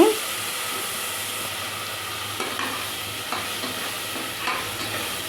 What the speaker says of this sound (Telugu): వేగిన తర్వాత అల్లం తెల్లుల్లి పేస్ట్ వేసుకొని పచ్చివాసన పొయ్యేంత వరకు మనం ఫ్రై చేసుకోవాలి